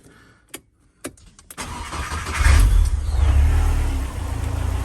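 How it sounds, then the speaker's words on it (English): A Ford Sierra Cosworth 2WD is cranked over with a few starter clicks, then catches and fires up into a loud, rumbling engine that revs and settles close by. "I'm going to fire it up because it's now the oil's got round, the hydraulics have jacked up"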